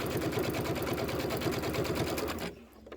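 A sewing machine stitches quilt pieces for a table topper in a fast, even mechanical whir of rapid needle strokes, running close and steady before stopping abruptly near the end.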